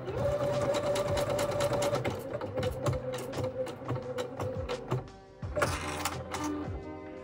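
A sewing machine stitches fabric on its own under an automatic program, giving a steady rapid mechanical whirr with rhythmic needle ticks, a brief pause and then a louder restart.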